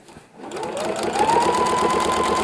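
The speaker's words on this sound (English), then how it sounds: "And you're just going to sew down that line." A sewing machine with a walking foot stitches a seam for paper piecing, its motor spinning up quickly into a steady, rapid mechanical whir with a rhythmic needle clatter, close and loud.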